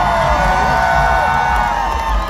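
Large concert crowd at Dodger Stadium in Los Angeles cheering, whooping and shouting, a loud, dense roar sustained throughout.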